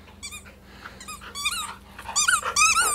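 A Labrador Retriever mix dog whines and yelps in a string of high, squeaky cries that grow louder and more insistent toward the end, close by with no talking.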